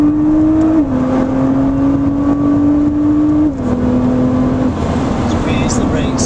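Nissan GT-R R35 on the Oulton race track, its engine pulling steadily under gentle throttle with a droning note that dips and settles as speed changes, loud and close from inside the car, with an instructor talking over it.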